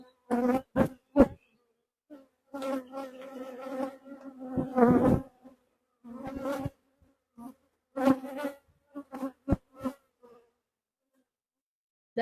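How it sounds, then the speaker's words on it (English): Honey bees at an opened beehive buzz close by in intermittent bursts, a nasal droning hum that rises and cuts off repeatedly between moments of quiet. "Lots of bees here."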